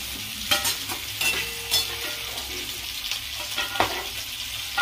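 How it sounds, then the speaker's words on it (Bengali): Papad and onion flower fritters fry in hot oil with a steady, close sizzle, broken by repeated sharp clinks and scrapes of stirring. "পেঁয়াজ কলি দেখে ভাজা, পাপড় ভাজা জমে যাবে গো"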